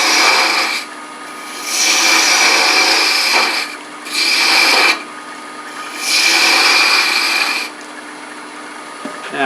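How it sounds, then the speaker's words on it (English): A 3/8 inch bowl gouge cuts into a wooden globe ornament spinning on a lathe, removing bulk stock. Several long, loud, rasping cutting passes are separated by short lulls where only the lathe hums, and no one speaks. "Some of this work I'm going to use a tiny little 3/8 inch bowl gouge."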